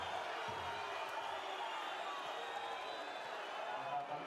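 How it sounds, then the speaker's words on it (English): Basketball arena crowd during a Champions League game between Manresa and Holon reacting to a player, a sustained roar of voices and jeers with scattered court thumps, loud and enveloping throughout. "Now the crowd lets him hear it."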